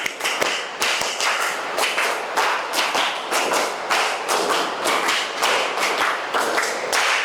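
A classroom group in an Indonesian Islamic education lesson claps together in sharp, evenly counted bursts, each sharp slap close and loud, repeating in a steady pattern from start to finish with no voices over it.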